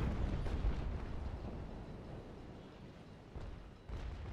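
Cannon fire from an enemy sailing warship in the naval combat game Naval Action: a deep, rumbling boom at the start decays into low rolling noise, with fainter follow-up thuds later.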